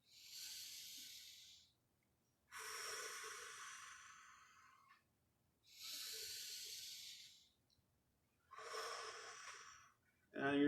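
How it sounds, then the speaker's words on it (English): Slow, deep breaths drawn in through the nose and let out through the mouth during a yoga prayer pose, four long airy hisses separated by pauses, close and quiet. "take a few deep breaths in through the nose, out through the mouth"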